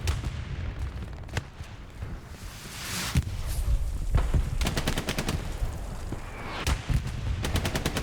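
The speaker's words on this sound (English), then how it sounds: "Gregor not hearing this MG right next to his ears." Machine gun fire crackles through a real-time strategy battle, with rapid bursts of rattling shots repeating in clusters among distant booms and other gunfire, dense and continuous.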